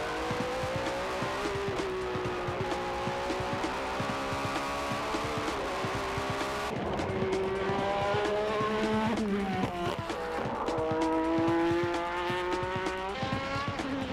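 Race cars in a qualifying round at a circuit scream past with high, sustained engine whine that rises and falls through gear changes, loud and continuous, with no talking.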